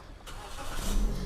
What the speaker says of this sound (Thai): เหยียบเบรกนะครับกดปุ่มสตาร์ท